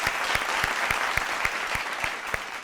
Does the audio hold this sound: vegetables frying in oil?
no